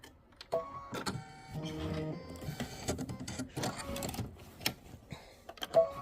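A sewing machine stitches a butterfly quilt block for a Kimberbell mini quilt at 1,050 stitches per minute, giving a steady mechanical whir with rapid ticking and occasional clunks. It is close and fairly quiet, with no talk.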